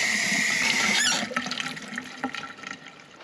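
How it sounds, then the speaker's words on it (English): A kitchen tap runs in a strong, steady stream for about a second, then drops to softer splashing and dripping as a knife and hands are rinsed beneath it. "Get our knife all washed and cleaned up. And wash my hands"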